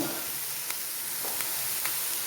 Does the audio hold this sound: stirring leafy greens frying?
yes